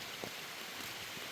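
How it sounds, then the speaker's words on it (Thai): Steady rain pours over open rice paddies, a faint, even hiss of drops with no voices, continuous across the short stretch. "ฝนตกพี่น้องเอ้ย"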